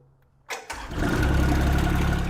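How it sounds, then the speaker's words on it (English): An XH20D machine's diesel engine cranks briefly then catches and starts, settling into a loud, steady, close idle rumble. "Once you start up the engine, first turn it over, warm your glow plugs."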